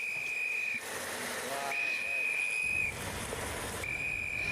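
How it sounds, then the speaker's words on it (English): Three long, sustained whistle blasts sound at a road cycling stage race, each steady and piercing, separated by short gaps, over a constant background roar of crowd and race noise. "there's a lot of signalling and whistle blowing that goes on in the sport of cycling"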